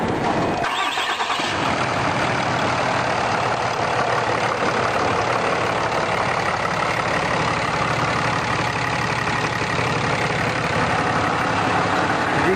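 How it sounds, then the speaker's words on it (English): A 6.7 Cummins diesel truck engine starts and settles into a steady, fairly quiet idle, a continuous broadband rumble and hum held close and even for the whole stretch with no talking. "You guys can hear it's a pretty quiet truck"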